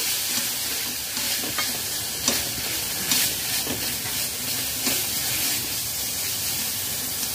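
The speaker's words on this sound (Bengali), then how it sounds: "ভালো করে নাড়াচাড়া করে কষিয়ে নেব। পরিমাণ জল দিয়ে দেব মশলা কষানোর জন্য" Spice masala with Kashmiri chilli powder and a splash of water fries for a prawn malai curry while being stirred, with close, repeated scraping strokes over a continuous sizzle and no talking.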